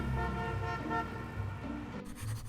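A car horn toots amid steady road noise while sitting in Los Angeles traffic, a sustained honk at a moderate distance over a continuous engine rumble.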